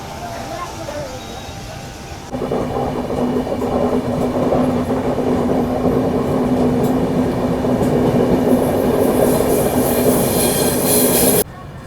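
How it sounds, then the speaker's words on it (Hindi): Mahakoshal Express pulls out of a station with a rising rumble and rattle of wheels, a steady tonal whine running underneath and a faint screech building toward the end, loud and close. "सिग्नल मिल गया अपनी ट्रेन को यहाँ से निकलने का"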